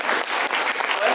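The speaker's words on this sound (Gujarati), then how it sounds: "તે બધા સ્વયંસેવકો માટે જોરદાર તાળીઓ થઈ જાય" A hall crowd at a Diwali cultural evening breaks into a short burst of dense clapping for the volunteers, loud and continuous with no pauses.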